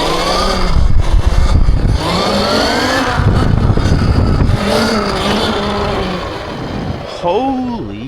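An e-bike fitted with a pulley kit revs hard into a wheelie, its motor whine climbing and falling in rising sweeps against loud wind and road rumble, with a voice exclaiming near the end.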